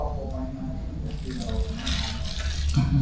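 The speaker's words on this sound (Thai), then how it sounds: "ครึ่งกิโลก็ต้องเทน้ำลงไปเลย" Water is poured into a cooking pot holding half a kilo of toasted rice, a steady splashing rush with a person talking over it.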